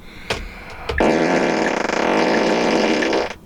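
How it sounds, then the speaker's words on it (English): A 2013 Tesla Model S in emissions mode plays a long, loud, buzzy fart noise for over two seconds, preceded by a couple of sharp clicks and cutting off abruptly. "the emission setting where it can play fart noises when you use the turn signals"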